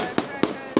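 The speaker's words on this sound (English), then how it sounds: "Firecrackers." Firecrackers bursting in a public park in China, three sharp loud bangs spaced evenly over less than a second against a busy outdoor background.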